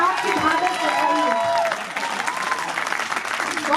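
Steady, dense applause from an audience at a Hindi poetry recital (kavi sammelan), many hands clapping at once with a few voices mixed in, sustained throughout.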